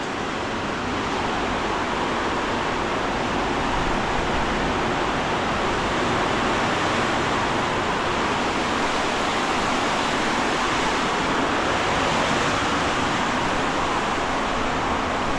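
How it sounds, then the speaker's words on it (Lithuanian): A steady, even hiss of running water pours continuously from a shower spraying without a break in a cheap hotel room in Liberia. "Dušas."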